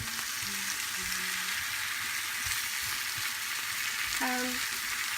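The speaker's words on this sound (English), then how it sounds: "keep my eye on the boiling quinoa and the sauteed vegetables" Steady broadband sizzle of vegetables sautéing in a pan beside boiling quinoa, continuous throughout, with a few faint clinks and low thumps in the background.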